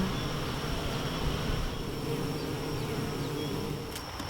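Honey bees buzz around a top bar hive in a dense, steady hum that stays close and loud throughout, with no voices.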